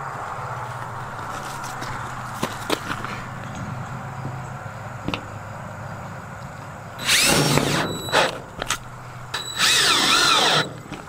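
A power drill drives small red barn screws with rubber washers from the back side into metal barn siding; several loud bursts of drilling, each a second or two long, come in the second half over quiet background with a few knocks.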